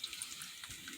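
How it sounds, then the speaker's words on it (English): A leaking hot water heater gives off a steady, close hiss of escaping water, like a running tap, with no talking. "How do you turn off a hot water heater that's leaking?"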